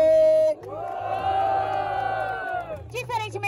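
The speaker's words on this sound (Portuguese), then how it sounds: "Barulho que gostou das rimas de KPV!" Crowd at a Brazilian street rap battle cheering and shouting loudly after a round of rhymes, a sustained roar with whoops that swells and then breaks into scattered yells.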